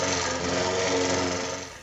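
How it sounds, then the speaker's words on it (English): A lawnmower runs while cutting grass and clearing spring snow in a small Iowa town, heard as a loud, steady, close engine drone throughout. "that's a lawnmower. It's doing a good job of clearing the snow."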